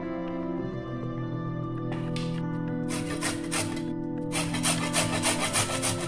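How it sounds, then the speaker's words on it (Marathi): Peeled beetroot rubbed against a grater in bursts of rhythmic rasping strokes that grow quicker toward the end, close, over a steady background hum, with no voices. "आता आपण ते किसून घेऊया।"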